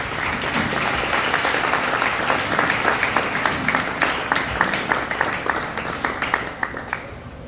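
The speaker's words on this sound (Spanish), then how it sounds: "Entonces regalémoslo un fuerte aplauso." Guests at a quinceañera clap loudly for the ring presentation, a close crowd of hands with individual sharp claps standing out, thinning toward the end as the applause tapers off.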